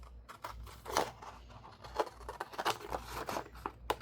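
A new pair of scissors cuts through lightweight cardstock in a series of crisp snips and slicing strokes, close and moderately quiet with no talking.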